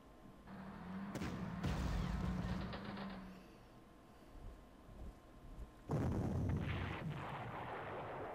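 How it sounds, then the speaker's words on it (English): Artillery barrages in the Panzer Corps strategy game, Wehrmacht campaign near Kiev: a loud rumbling salvo with sharp bangs in the first seconds, a quieter lull, then another heavy blast roaring near the end, with no talking. "Now the artillery is simply too much for them to handle"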